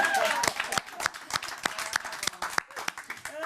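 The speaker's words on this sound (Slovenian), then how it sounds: "Aplavz za Danielo," Scattered applause from a small audience at a live Slovenian variety-style show, uneven claps rising and falling in short bursts, with voices talking over it.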